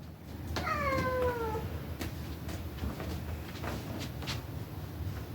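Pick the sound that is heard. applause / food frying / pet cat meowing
pet cat meowing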